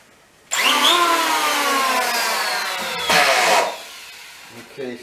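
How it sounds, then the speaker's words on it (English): A bandsaw cuts through a cedar canoe paddle blank, a loud sustained whining buzz with shifting pitch that runs for about three seconds, surges briefly, then spins down as the cut finishes. "then I'm going to take it to the bandsaw"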